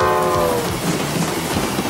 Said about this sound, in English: And there goes a train.